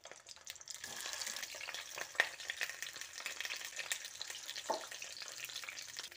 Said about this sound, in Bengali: পাতুরিগুলো ভাজার জন্য কড়াইয়ে সর্ষের তেল দিয়ে দিচ্ছি। এবার তেলটা গরম হয়ে এলে পাতুরিগুলো একে একে দিয়ে দিচ্ছি।